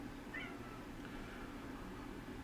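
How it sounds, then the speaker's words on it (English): A cat gives a single faint, short meow early on, heard alone over a quiet indoor hum. "Oh my god, this cat."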